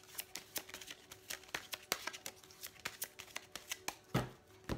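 Tarot cards are shuffled by hand for a card reading, a soft, close series of quick papery flicks and taps in a steady, busy rhythm, ending with a slightly heavier thump, quiet and without talk.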